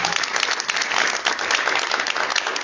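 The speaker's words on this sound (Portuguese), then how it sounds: "Uma salva de palmas para a nossa igreja." Steady applause from a church congregation, many hands clapping in a dense, even wash that holds at a constant level for a few seconds, with no voices standing out.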